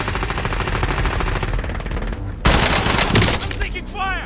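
Rapid automatic gunfire in an online squad battle-royale video game, sustained bursts throughout with a louder, closer volley in the second half, sounding near and dense over game effects.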